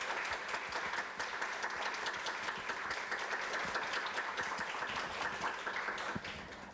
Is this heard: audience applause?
yes